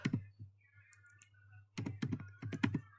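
Quick keystrokes on a computer keyboard while MySQL table code is entered, a short click at the start, then a pause, then a dense close burst of typing.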